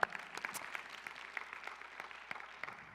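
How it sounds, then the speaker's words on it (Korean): Church congregation applauding together, a quiet, steady patter of clapping from a modest group with a few sharper claps standing out. "우리 하나님께 영광의 박수를 드리겠습니다"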